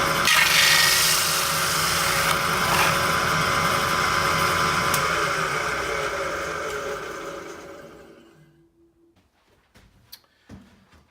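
Circle hole-saw bit cutting holes in wood for a sandblast cabinet dust collector, a loud sustained grinding whir that winds down and stops, followed by a few faint knocks.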